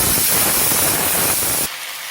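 A single tomato sautéing in a pan for a village-style ground-spice sambar, a loud steady sizzling hiss close up that drops sharply quieter near the end.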